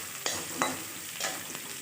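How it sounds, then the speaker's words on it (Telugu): Garlic frying in a hot pan as a steady sizzle, broken by a few brief scrapes of stirring, with no voices. "వెల్లుల్లిపాయలు అందులో వేగితే చాలా బాగుంటుంది"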